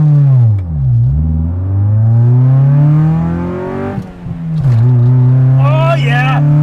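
A 1994 Honda Civic with a 102-horsepower engine launches hard from inside the car, its engine rising loudly through the revs, dropping at a gear change and climbing again, with voices shouting over it near the end.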